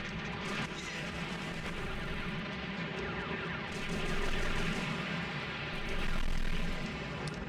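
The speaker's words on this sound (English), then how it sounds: "Wow, that was quite an explosion sound." Combat in the video game Robotech: Battlecry, a continuous dense roar of blasts and gunfire with two louder explosive swells in the later half, loud and without speech.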